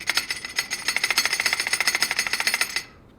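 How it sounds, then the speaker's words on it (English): Dry clutch plates rattling in the basket of a Ducati Desmosedici RR motorcycle, a rapid, even metallic chatter for nearly three seconds before stopping abruptly, close and alone. "It's just the sound of the clutch plates sitting in the basket in there, but they're dry, so they make this noise."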